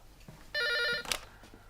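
A telephone bell rings once in a quiet home, a single bright electronic burst of about half a second, followed by a short clatter as the handset is picked up.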